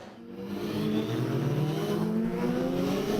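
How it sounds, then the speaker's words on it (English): Superstock racing motorbikes pull out of the garage at Knockhill circuit, engines droning and revving in a steady rising roar with layered buzzing tones, loud and close throughout. "as we see the bikes leaving the garage"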